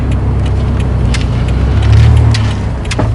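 A Toyota 86 drives and swings through a U-turn, heard from inside as a loud, steady engine and road rumble that swells briefly midway, with faint ticks over the top.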